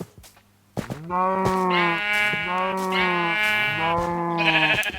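Three drawn-out sheep bleats from the Minecraft video game, each a clear, wavering tonal cry, following a short quiet lead-in and sounding close and moderately loud.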